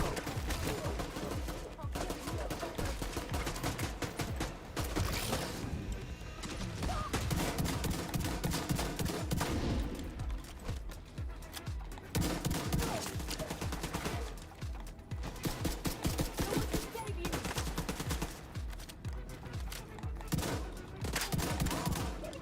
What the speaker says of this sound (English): shotgun's amazing